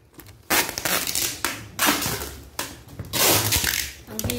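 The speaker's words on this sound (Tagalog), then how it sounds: "Basag na yung box, guys." A cardboard balikbayan box packed for shipping from Saudi Arabia to the Philippines is pressed and crushed in several loud crackling, crunching bursts, close up with short pauses between them and no talk.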